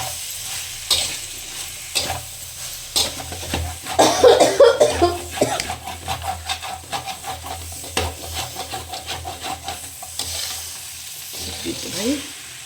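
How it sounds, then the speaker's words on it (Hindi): Potato and radish sabzi fries in a pan, with a steady sizzle under repeated scraping stirs and a rhythmic knocking of the spoon. A cough breaks in partway through. "अच्छे तरीके से ये भून दिया है"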